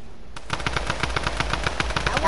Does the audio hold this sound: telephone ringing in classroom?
no